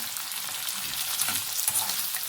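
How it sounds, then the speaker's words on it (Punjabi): Long-sliced onions frying in a pan for Punjabi-style chole, a steady close crackling sizzle with faint stirring scrapes, heard alone without speech. "ਇਹਨੂੰ ਪਾ ਕੇ ਵਿੱਚ ਆਪਾਂ ਇਹਨਾਂ ਨੂੰ ਭੁੰਨ ਲਾਂਗੇ"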